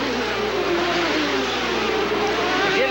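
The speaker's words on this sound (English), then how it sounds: "There comes Fittipaldi through in third place. Fittipaldi with that brand new Chevrolet, they call it the Indy Chevy V engine." Fittipaldi's IndyCar with the new Chevrolet Indy V engine passing on the street circuit at the 1992 Australian Grand Prix, a high, loud engine whine sweeping steadily across, with commentary voices faintly beneath.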